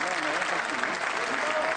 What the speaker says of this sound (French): sous les applaudissements du personnel